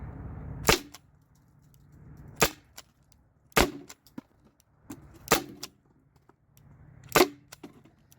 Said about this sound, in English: All right, this will be the last of the Byrna shots, because this is shot 15 through 20.